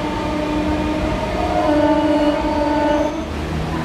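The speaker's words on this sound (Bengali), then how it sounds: "আমাদের ট্রেন বাগনান স্টেশন ছেড়ে যাচ্ছে" A local train on the Howrah–Digha route pulls out of Bagnan station with a steady, loud rumble of wheels and carriages. A sustained tonal whine rides over the din throughout, and no one speaks.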